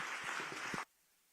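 A symposium audience applauding its panel: a dense, steady patter of many hands for under a second before cutting off abruptly into silence.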